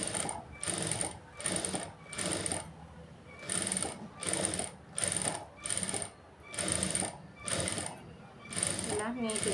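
Sewing machine stitching a blouse, running in a steady series of short bursts with brief pauses between, close and fairly loud, with a voice talking at times underneath.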